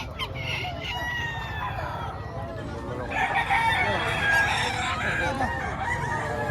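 A gamecock crows repeatedly at a rooster sale, loud and near, with other birds clucking and crowing around it while a seller talks over the din.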